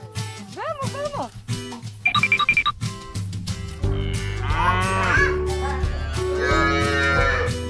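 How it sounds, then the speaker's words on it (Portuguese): A cow moos from a children's animal toy, with several drawn-out lowing calls mixed among other electronic animal sounds, tones and tune fragments, while a voice speaks over parts of it. "Vaca,"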